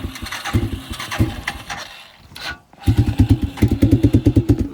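Polaris RZR side-by-side engine in deep snow, running rough instead of idling, with choppy sputtering pulses that fade briefly, then return as a fast, uneven stuttering beat close by.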